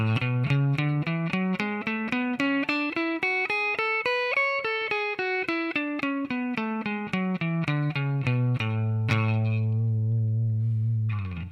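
Clean, evenly alternate-picked electric guitar notes run up a major scale and back down in a steady rhythm, ending on a held low note.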